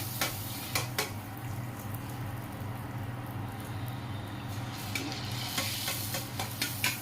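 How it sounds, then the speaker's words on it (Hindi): Pani puri made from wheat flour and semolina frying in hot oil, with a steady sizzle and repeated clinks and scrapes of a utensil stirring the pan, close and continuous. "और अब हम इसी तरह से और भी फ्राई कर लेते हैं। इस तरह से डाल जाइए और तेल को फिर हिलाते जाइए।"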